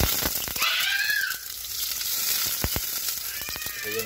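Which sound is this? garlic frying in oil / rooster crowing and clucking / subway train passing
garlic frying in oil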